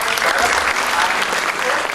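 A seminar audience applauds in a brief, dense burst of clapping while a voice carries on over the noise.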